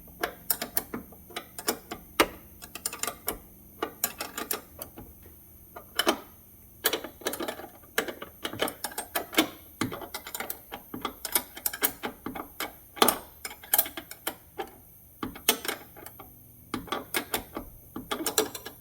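A hand ratchet wrench clicks rapidly on door hinge bolts of a Chevrolet Silverado with a sagging door, in close, sharp bursts of ratcheting with brief pauses between strokes, loud and uninterrupted by speech for nearly nineteen seconds.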